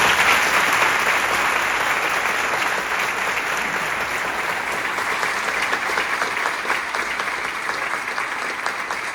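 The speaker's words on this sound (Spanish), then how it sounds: "si pueden dar un fuerte aplauso a mi madre" Loud, sustained applause from a large congregation fills a memorial mass, with a dense steady clapping that stays strong throughout and fades only slightly toward the end.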